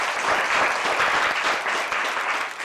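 Sustained audience applause fills the room at a steady, dense level from start to finish, with no voices standing out above the clapping.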